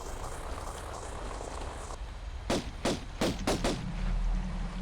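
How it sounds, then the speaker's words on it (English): Gunshots fired at bats in the Lost Valley of a Tomb Raider 1 remake: five sharp shots in an uneven burst, closely spaced, over a low game ambience. "shoot the bats"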